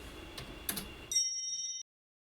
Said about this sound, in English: And you hear a bell chime.